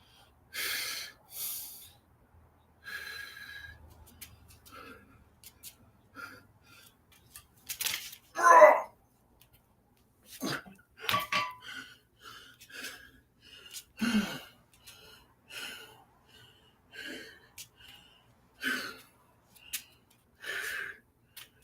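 Heavy breathing after a workout: irregular close puffs, sharp snorting exhales and gasping breaths scattered through the stretch, alone without talk.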